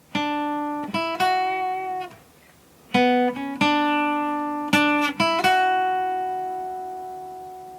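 A clean guitar plays a short melodic phrase of single plucked notes, a pause in the middle, the final note ringing out and fading.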